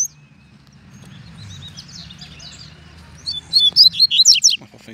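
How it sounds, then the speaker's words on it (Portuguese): A white-billed coleiro (seedeater) sings in scrubby countryside, a faint early chirp followed by a bright, rapid run of clear twittering notes near the end over a low background rumble. "Esse pardo é outro de bico branco, galera. E canta bonito, hein?"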